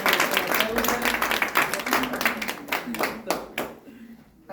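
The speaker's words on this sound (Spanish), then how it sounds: "un aplauso tanto a la paciente como a la terapeuta" A room of people applauds a patient and a therapist after a practice session, with dense clapping fading out over a few seconds and some voices mixed in.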